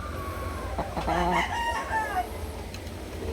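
Sweater-bloodline gamecock from a game farm crowing once, a clear drawn-out cock-a-doodle-doo at moderate distance over a constant low outdoor hum.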